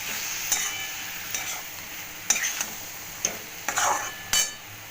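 Dried small fish (chuno shutki) being stirred with Kashmiri chili powder, a spatula scraping the pan in a few sharp, irregular strokes over a faint sizzle, with no talking.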